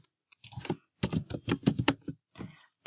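Crisp keystrokes typing a name on a computer keyboard, close and clear, in quick clustered bursts with brief gaps.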